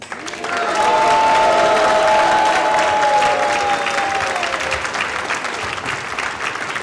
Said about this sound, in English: I would like a big, big, big cheer and a round of applause for the kids.